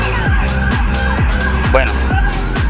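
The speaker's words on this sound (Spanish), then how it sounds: "Ojo que tenemos una ambulancia." An ambulance siren wails loud and close on an outdoor street in Colombia, its rising and falling tone repeating steadily throughout alongside traffic noise.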